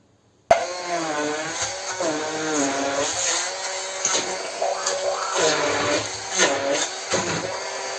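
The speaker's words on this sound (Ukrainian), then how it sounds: "І це все ми переб'ємо блендером." A kitchen blender whirs steadily as it purées cottage cheese with semolina for sweet cheese buns, the motor starting abruptly and running loud and close with shifting pitch for several seconds, no talking over it.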